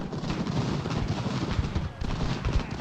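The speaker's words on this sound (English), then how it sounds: "luckily we've got mortars helping us out" Mortar and musket fire rolls through a Revolutionary War battle at Fort Augusta in Ultimate General: Revolution, a steady, dense rumble of distant booming shots with no clear gaps.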